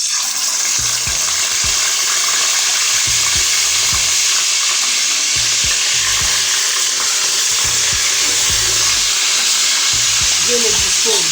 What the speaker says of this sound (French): Je suis en train de chauffer de l'huile pour faire revenir mon poisson